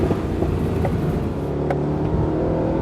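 A 2013 Mercedes-Benz SLS AMG GT coupe driven hard with oversteer, its rear tires breaking loose, gives a loud, steady engine drone with revving under it and a few faint ticks.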